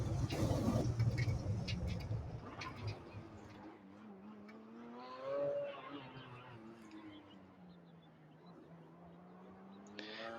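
Race car rolling across the grass runoff at Road Atlanta, its engine a steady mid-level drone with a brief swell partway through, a louder rumble at the start, no talk over it.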